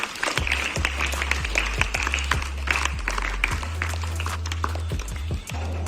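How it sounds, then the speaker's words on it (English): Audience clapping at a school National Science Day celebration, a steady patter of many hands sustained throughout with a low constant hum underneath. "I'll give them a big round of applause."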